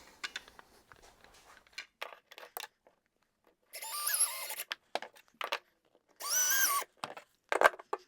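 A power driver whirs in two bursts of about a second each, driving number 6 5/8-inch screws into wood, with clicks and knocks of handling between them.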